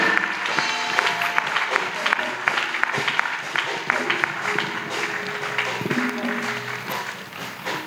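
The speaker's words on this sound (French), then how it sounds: "Let's clap for Jesus Christ." A crowd claps at an evangelism meeting, a dense patter of hands with voices and cheers mixed in, sustained at moderate loudness throughout.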